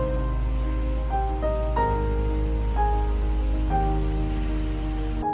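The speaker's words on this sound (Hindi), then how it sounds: "लो भाई, बारिश भी शुरू हो गई।" Rain falls steadily on a mountain road, a constant hiss and patter beneath sustained tonal notes that shift pitch every second or so.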